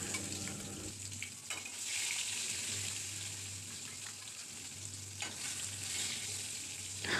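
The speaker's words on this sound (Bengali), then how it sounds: "এই যে মাছগুলো ভাজা হচ্ছে, এই তো মাছ ভাজা আমার প্রায় কমপ্লিট হয়ে গেছে" Fish fry in a pan on a home kitchen stove, giving a continuous sizzling crackle that stays fairly loud and close, joined briefly by running water, with no talk.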